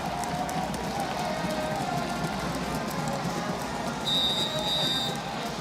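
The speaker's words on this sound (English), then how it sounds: "You can hear them stomping their feet on the metal bleachers here at the University of Michigan Lacrosse Stadium." A steady, dense rumble of many feet stomping on hollow metal bleachers at the University of Michigan lacrosse stadium fills the space, a constant crowd roar without pause.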